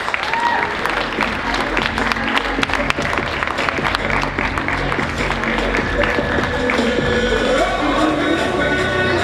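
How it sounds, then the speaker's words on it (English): Steady applause fills a school gym at a senior signing day, dense clapping from a large crowd sustained throughout with a faint voice mixed in underneath. "Now we have been applauding, and rightfully so, for everybody so far."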